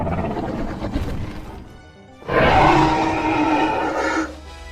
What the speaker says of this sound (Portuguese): Qual dinossauro tem esse rugido?